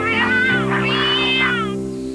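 A cartoon cat lets out one long, loud, drawn-out meow, its pitch rising and falling, over a steady music bed.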